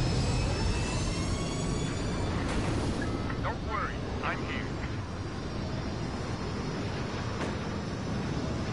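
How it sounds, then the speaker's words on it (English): First Order transport ships roaring out of a hangar in a Star Wars Battlefront 2 starfighter assault, a dense, loud jet-engine rush with whooshing fly-bys and a sweeping engine whine, over a bed of game effects and voice lines. "Alert! First order transport ships leaving the hangar."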